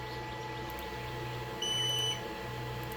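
Short beep tones from a Creality Falcon 2 Pro laser engraver as its faulty USB port briefly detects a connection, a couple of clear electronic pips over a steady machine hum.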